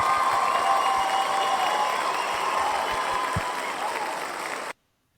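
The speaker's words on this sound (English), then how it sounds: "So we're going to do a cheer for him." A crowd cheers and claps loudly for a special guest on an indie comics podcast, a dense burst of applause with whoops and hollers that holds steady and then cuts off abruptly.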